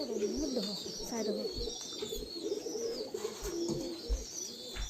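King pigeons coo continuously in a loft, with overlapping low, throaty cooing from several nearby birds, and faint human talk underneath.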